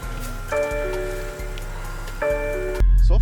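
A snow-covered BMW X3 M with the S58 engine sits under a steady low hum and chime-like tones, then ends with a sudden loud, deep surge as the engine fires up.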